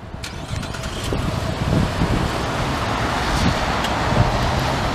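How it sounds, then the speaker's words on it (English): Remote start of a 2013 Cadillac XTS with the 3.6 engine: a steady, fairly loud engine rumble runs throughout, with some wind noise on the microphone and no talking. "So we'll go ahead, step inside this one and start it up. It does come equipped with remote start."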